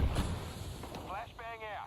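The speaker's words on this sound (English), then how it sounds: "Grenade. Fire in the hole." A grenade blast in Counter-Strike 2 opens with a loud low boom, then fades into a rumbling tail with a faint whistling tone near the end.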